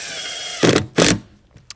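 A power drill drives 2-inch screws through Skate-lite sheeting around the perimeter of a skate box ramp, two short whirring bursts close by, followed by a faint click.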